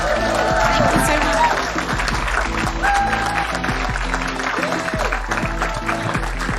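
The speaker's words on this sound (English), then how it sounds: "can we have a loud round of applause?" Live audience at a podcast festival breaks into loud, sustained applause with cheering, steady throughout, while a host's voice carries over the clapping.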